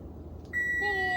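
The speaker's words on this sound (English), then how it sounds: "I'm just gonna press my timer off so it's not beeping while I'm talking to you" A kitchen timer beeps during home baking of sugar cookies, starting partway in as a loud, steady, high electronic tone that continues unbroken to the end.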